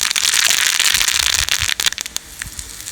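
Mustard seeds splutter and pop in hot oil during tempering for a drumstick greens thuvayal, a loud sizzling hiss studded with sharp crackles that thin out toward the end.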